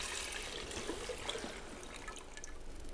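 Water poured from a watering can onto houseplant seedlings, a soft continuous trickle with faint drips, quiet and steady with no talking.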